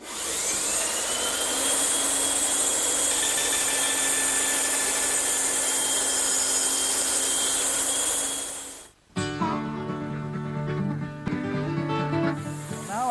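Bandsaw cutting the top and bottom edges of a wooden tenon for a Mission-style sofa, a loud steady whining roar for several seconds that drops away, followed by a quieter spinning-down hum.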